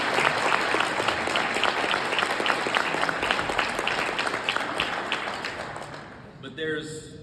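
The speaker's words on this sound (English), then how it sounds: "How about give these guys a round of applause for that?" A graduation ceremony audience applauds in a large hall, dense steady clapping lasting several seconds before fading out, with a voice starting up at the end.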